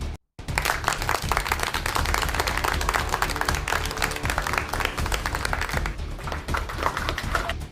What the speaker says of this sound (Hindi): सभी फैंस के लिए तालियाँ